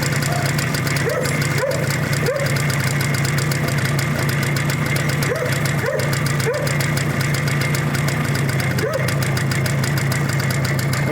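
An engine idles steadily up close as the choke is pushed in and the revs drop, its rumble continuous, with a few brief chirping sounds over it.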